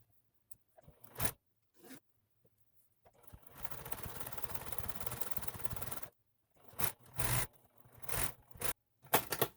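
Sewing machine top stitching a zipper into the lining of a purse knitted from wool rug yarn, a steady mechanical whir running for about three seconds mid-clip, framed by short scraping and handling noises before and after.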